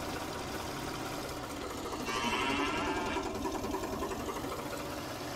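A cow moos once in the farming game Farming Simulator 19, a drawn-out low call rising over a constant mechanical machine hum.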